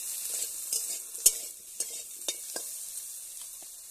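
Eggplant fries in oil in a kadai, a steady close sizzle broken by sharp clicks and scrapes from stirring.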